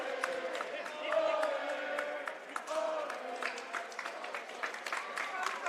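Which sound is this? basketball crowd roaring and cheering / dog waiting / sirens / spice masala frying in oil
basketball crowd roaring and cheering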